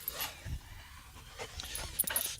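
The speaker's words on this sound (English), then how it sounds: "Oh, I can hear a dog right by my head at the moment." A dog close by pants and whimpers faintly in short bursts against a quiet, noisy background.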